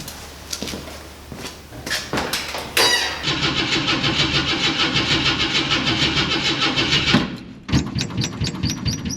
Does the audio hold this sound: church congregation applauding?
no